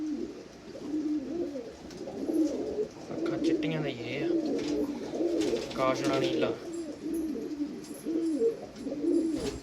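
Jarnail Kanewala pigeons coo in repeated soft, throaty rolls close by, steady across the stretch, while someone speaks briefly over them.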